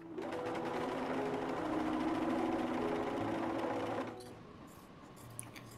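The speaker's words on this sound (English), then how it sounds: "Sew the two long sides together and leave the short edges open." A sewing machine stitching fleece headband pieces, running steadily at close range for about four seconds before stopping, followed by a quiet pause and a faint click.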